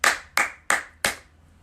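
Four sharp, separate claps ring out in an even rhythm with no talking, given as applause for police union members.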